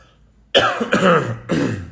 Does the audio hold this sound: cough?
yes